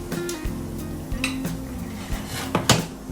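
A utensil scrapes and clinks against a pot while puto maya, sticky rice, is mixed, with irregular metallic scraping and tapping strokes up close over a low steady hum.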